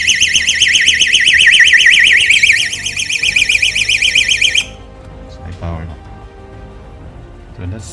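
A DIY door stop alarm blares a loud, piercing warbling siren for several seconds close by, then cuts off abruptly, followed by quieter clicks and handling noises while a person speaks.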